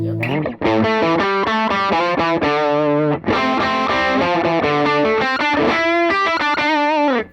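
A distorted electric guitar through a UAFX Ruby amp-modeling pedal plays a fast run of notes with a heavy overdriven tone, continuous and loud, briefly pausing twice.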